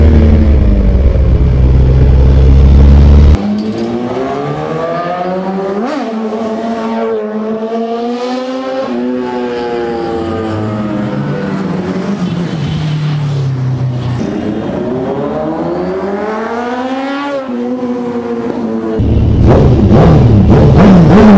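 Suzuki Hayabusa motorcycle engine revving hard and loud, rising and falling through repeated sweeping pitch climbs over a long stretch, close and dominant with no talking.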